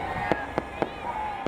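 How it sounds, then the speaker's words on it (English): Fireworks burst at the Space Needle in Seattle. Four sharp, distant-sounding cracks land at uneven intervals over a steady tonal background of music or voices. "That fireworks program you see at the Space Needle every year?"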